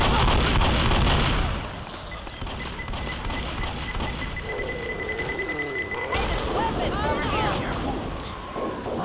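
Automatic shotgun blasts in Left 4 Dead, a heavy run of booming shots at the start that fades into rumbling game noise with someone talking over it.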